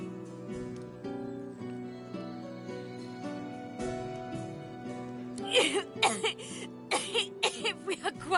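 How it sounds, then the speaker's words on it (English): A female character in Divinity Original Sin II breaks into a fit of coughing, wheezing and groaning, with harsh bursts of repeated coughs rising over a steady musical background, loud and close. "She stops mid-shout, descending into a fit of coughing, wheezing, and groaning."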